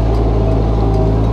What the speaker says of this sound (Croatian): Sad možemo dati gas.